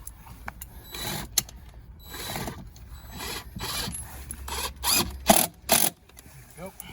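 A screw is driven into a Jacuzzi hot tub pump base in irregular bursts of whirring and ratcheting, with clicks and short mechanical rasps between pauses, close up, as someone speaks intermittently.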